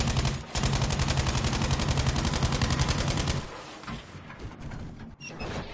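Rapid, evenly spaced machine gun bursts rattle loudly through a video game tank battle for about three seconds, then give way to quieter rumbling battlefield noise.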